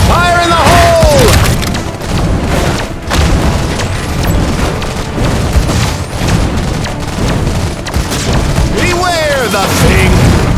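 Explosions boom in the video game Iron Marines: repeated heavy blasts mixed with crackling gunfire, loud and dense, with game voices calling out over the battle.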